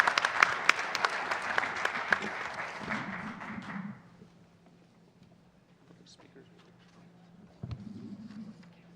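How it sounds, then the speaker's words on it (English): Loud applause from an audience at a school board meeting runs steadily for about four seconds, then dies away, leaving quiet room noise and a soft bump. "Can we give them a round of applause as well?"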